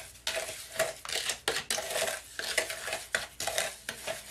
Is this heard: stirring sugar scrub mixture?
yes